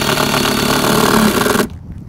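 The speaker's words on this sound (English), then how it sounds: "So I'm gonna be using 3-inch nails with an impact driver." An impact driver sinks a 3-inch nail into a roof joist under a rain screen: a loud, dense, rattling hammering burst that runs steadily close up, then cuts off abruptly near the end, leaving faint room noise.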